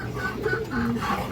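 A pair of pigeons coo softly with low, throaty rolling calls repeating close by, steady and unhurried against a faint background.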